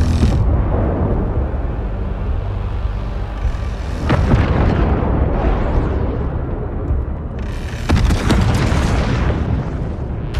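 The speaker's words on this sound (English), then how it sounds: "Hull defense guns are active and engaging targets." Mothership hull defense guns firing in Homeworld 3, a dense, continuous barrage of heavy booms and bursts with loud sharp blasts breaking through near the middle and end.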